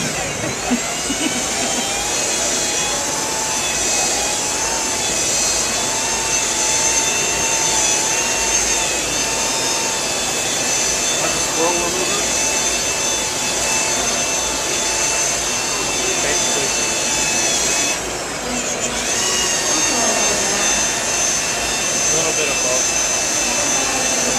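A machine polisher runs rubbing compound over car paint at a trade-show booth, giving a loud, steady high whine that barely pauses once, with someone talking over it.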